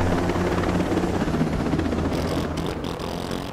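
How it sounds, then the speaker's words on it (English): A helicopter in the video game Ghost Recon Breakpoint flies overhead, its loud, dense rotor thrum and engine roar filling the scene steadily before easing slightly near the end, with no voices. "Uh-oh. Helicopter,"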